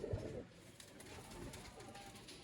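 Pigeons from a pigeon-keeping setup coo softly in the distance, low murmuring calls under a faint bed of background noise, with no voices.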